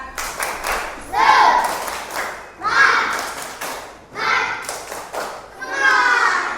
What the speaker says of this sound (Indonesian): Pak Guru ice breaking dulu. Tepuk semangat.